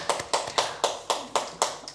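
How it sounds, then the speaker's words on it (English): Applause after a plenary session at a geography education conference comes as sharp, evenly spaced claps about four per second, close and distinct rather than a dense crowd roar. "Let us give them a very big round of applause."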